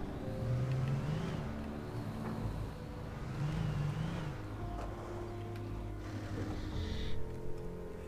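A car in the video game Alan Wake drives along with a steady engine drone that rises and falls as it revs, holding a continuous moderate level, with no one talking.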